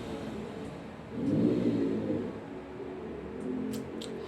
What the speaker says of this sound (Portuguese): Enfim, uma moto.